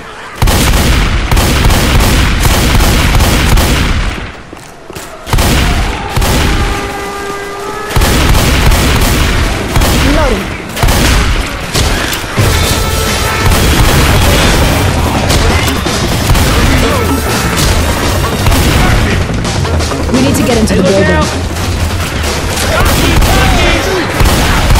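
A Molotov cocktail bursting into flames during Left 4 Dead 2 gameplay, loud and dense amid constant heavy gunfire, booms and crashes, with shouted voices under the chaos.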